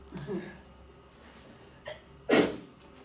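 A single sharp sneeze bursts out near the end, after a short breathy intake and a faint earlier catch of breath; otherwise quiet.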